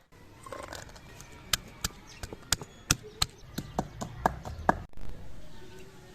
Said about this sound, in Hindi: तो पहले लहसुन को अच्छी तरह से कूट लेंगे